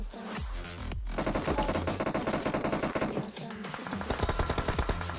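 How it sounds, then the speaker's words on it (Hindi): Rapid automatic gunfire in a multiplayer shooter video game, dense and loud bursts of shots continuing almost without pause, with voices talking over the top. "यहाँ पे हम लोग फंसे हुए थे कि भाई पीछे से गोली चलना स्टार्ट हो गई थी"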